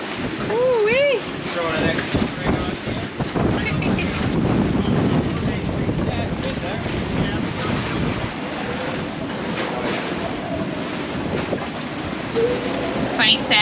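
Strong 45-knot storm wind blowing around a sailboat moored at a marina, a loud continuous roaring gust noise battering the microphone, with brief voices in the first seconds.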